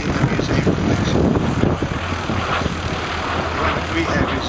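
A Jet Provost jet trainer flies past at an air pageant, a steady broadband engine roar heard from a distance over wind and crowd noise.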